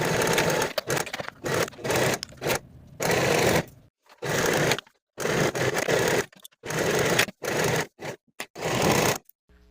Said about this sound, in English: Now I'll sew the side seam and the inseam for both sets with the seam allowance